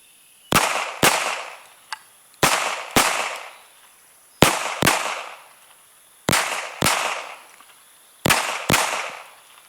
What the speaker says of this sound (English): I'm going to run another 10 rounds through it.